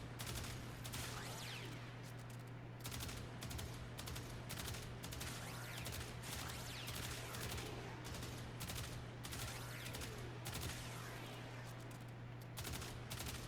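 Tiberon Prime rifle gunfire in the video game Warframe, with dense rapid shots in continuous bursts over a steady electronic hum, loud throughout.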